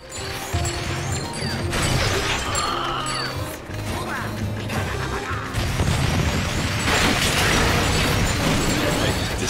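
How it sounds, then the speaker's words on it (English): Pipe smashed apart in the Skylanders game Heroic Challenge 30, a sustained loud crashing and clanking of breaking machinery with bursts and pops throughout, with a voice speaking over it. "Pipe destroyed."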